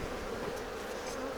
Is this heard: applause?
no